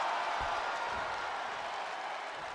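Steady roar of an arena crowd in a wrestling video game, a dense, continuous wash of cheering and applause at even loudness throughout.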